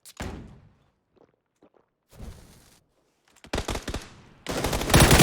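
Gunfire in the video game PUBG, with loud sharp shots and bursts including a rapid volley near the end, separated by near silence and faint footstep-like taps.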